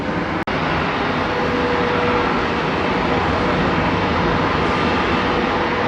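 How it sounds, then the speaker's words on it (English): A loud, continuous jet engine roar from an Airbus airliner with CFM engines at Dallas/Fort Worth airport, with a broad rushing hiss and faint whine, steady throughout and heard close by. "the CFM engines on the wrong Airbus. Very underpowered. Sounds cool though."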